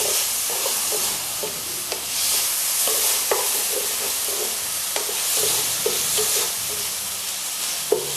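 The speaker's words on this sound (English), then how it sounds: "you have to cook it until the onion starts to become slightly translucent" Chopped onion with ginger and garlic sizzles steadily in a hot pan, a continuous bright frying hiss broken by scattered clicks and scrapes of stirring, close and fairly loud with no voices.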